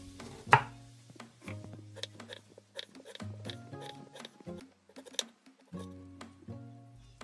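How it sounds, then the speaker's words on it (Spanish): Peeled onion sliced with a knife into fine julienne: irregular crisp taps, close and fairly quiet, with short pauses between bursts of cuts. "primero que vamos a hacer es picar nuestra cebolla"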